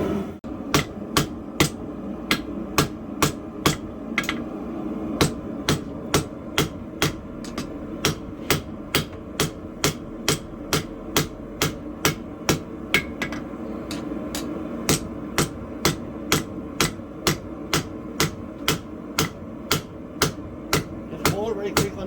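Steady, rapid hammer blows on metal over a cold anvil during forging of a metal hand, ringing sharply in an even rhythm throughout, with brief talk faintly underneath.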